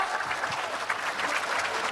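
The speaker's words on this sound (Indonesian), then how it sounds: "tepuk tangan sekali lagi untuk Najwa Shihab" Applause from an audience for Najwa Shihab at a debate event, a brief, moderately loud wash of steady clapping throughout.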